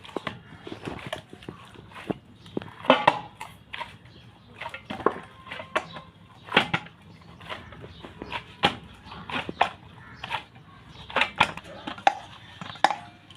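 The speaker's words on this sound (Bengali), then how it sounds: "এবার আমি ময়দাটা একটু ভালো করে ঠেসে নেব আর একটু।" Flour dough for dalpuri is kneaded by hand on a surface, producing repeated soft thumps and slaps in an uneven rhythm, close up in a quiet kitchen.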